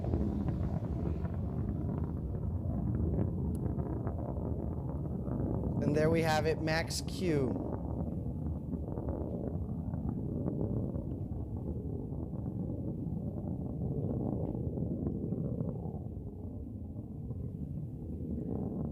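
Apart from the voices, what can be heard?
rocket engine roaring during launch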